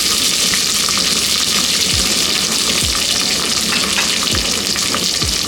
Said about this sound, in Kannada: ಈರುಳ್ಳಿ ಫ್ರೈ ಆಗೋ ತನಕ ಇದನ್ನ ಚೆನ್ನಾಗಿ ಫ್ರೈ ಮಾಡ್ಕೊಳ್ಳೋಣ